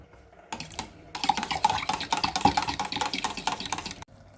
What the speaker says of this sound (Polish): I znowu dokładnie mieszamy.